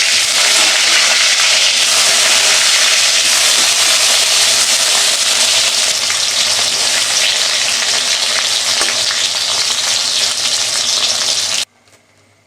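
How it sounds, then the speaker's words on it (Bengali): Eggplant slices fry in a pan of hot oil, a loud, dense, steady sizzle with crackling that runs nearly the whole time, then cuts off abruptly just before the end. "এবার বেগুন ভাজাটা করে নিলাম"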